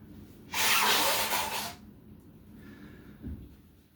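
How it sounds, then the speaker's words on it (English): A single forceful nose blow, a loud breathy hiss lasting about a second, followed by a faint sniff. "I gotta blow my nose"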